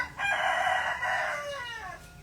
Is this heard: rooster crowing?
yes